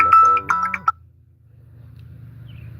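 A short electronic phone ringtone chimes a few bright, melodic notes in the first second, fairly close and loud, then cuts off, leaving only a low background hum.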